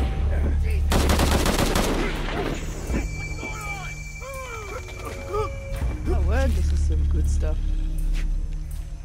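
A loud burst of rapid gunfire erupts early in the action game Shadow of the Tomb Raider, followed by game characters talking over a steady low background rumble.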